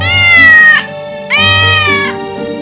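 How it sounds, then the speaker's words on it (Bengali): A cat meows twice, loud and close, each call a long drawn-out wail with a rising then falling tone, separated by a short pause. "বিড়াল বলল।"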